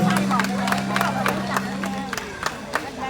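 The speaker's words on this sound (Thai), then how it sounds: "ปรบมือกับคุณแม่สิริควรชมครับ" Scattered clapping rises from the audience at a Thai memorial merit-making ceremony, mixed with crowd murmur and a steady tonal hum, irregular claps spaced across the stretch.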